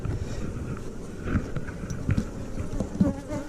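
Honey bees buzzing steadily around an open hive during a honey harvest, a dense close swarm drone with occasional louder passes near the microphone and some wind noise, no talk.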